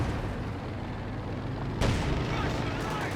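Artillery fire landing on a Panther tank in Company of Heroes 2, a dense rumbling barrage with a sharp louder blast partway through, under a commentator's voice.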